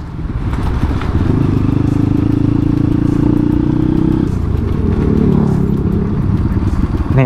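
A Kawasaki KLX dirt bike engine bored up to 200 cc idles and runs with a steady, rattling putter, loud and close, continuing throughout without pause.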